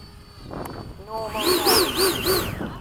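Eflite 80mm F-4 RC jet with a 2100kv motor taking off, a rising ducted-fan whine that swells up and wavers in pitch several times as it passes, with a voice briefly heard over it.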